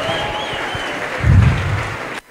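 A church congregation applauds during a deliverance and miracles service in Bogotá: a moderate, steady patter of clapping that swells briefly midway, then cuts off abruptly.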